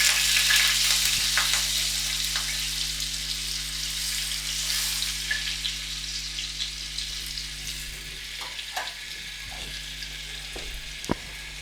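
White oil and butter sizzle on a hot tawa with a steady broadband frying hiss, closely miked and continuous, broken by a few faint clicks toward the end; nobody speaks.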